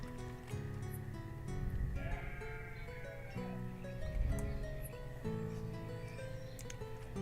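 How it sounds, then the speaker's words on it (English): Sheep bleat over and over in the village-building game Banished, their wavering calls layered and overlapping at moderate loudness against a steady ambient backdrop. "We'll take half the sheep here and move them over to our new field."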